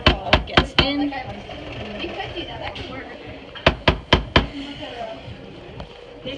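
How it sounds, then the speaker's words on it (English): Lamington cake batter scraped from a mixing bowl into a baking pan, with a cluster of sharp knocks and taps near the start and again about halfway through over soft scraping, close and moderately loud. "So we're just gonna scrape the bowl and make sure it all gets in."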